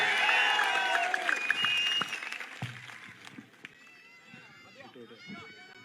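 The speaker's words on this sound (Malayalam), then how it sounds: "ആ വടകരയുടെ കരുത്തുള്ള ഒരു കയ്യടിയോടെ പിഷാരടിയെ നമുക്ക് ഒരിക്കൽ കൂടി വേദിയിലേക്ക് സ്വാഗതം ചെയ്യാം" A crowd at a public event in Vadakara applauds to welcome Ramesh Pisharody on stage: a loud burst of clapping that thins and fades as a voice comes through.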